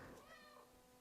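Barn cats on a homestead meow close by, a short, fairly loud cry that stretches out and wavers, with a faint voice in the background.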